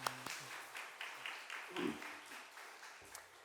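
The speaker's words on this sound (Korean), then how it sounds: "그리고 축복의 박수 한번 할까요?" A church congregation clapping warmly to bless the children during a Children's Sunday service, a soft, fairly distant ripple of applause that stays even throughout.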